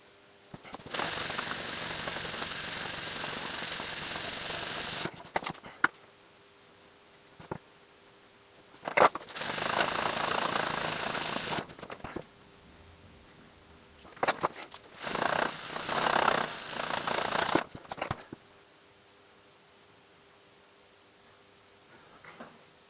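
A power sander works guitar fretboard veneers in three long loud bursts of buzzing whir, separated by quiet gaps with scattered knocks and handling sounds, no speech.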